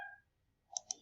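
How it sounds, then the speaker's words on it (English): Computer mouse clicking while drawing a floor plan in AutoCAD: two quick, crisp clicks close together, following a faint tone at the start. "then we click, then we go again, click, click and click."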